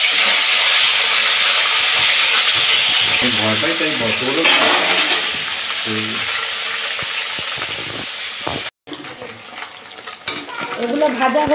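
Vegetables and fish frying in a pan at home, a loud steady sizzle with stirring scrapes, briefly cut off and resuming, with a voice speaking over it at times.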